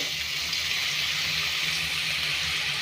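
Boondi batter dropping through a perforated ladle into hot oil gives a steady, even hiss and bubbling sizzle, close and continuous with no talk.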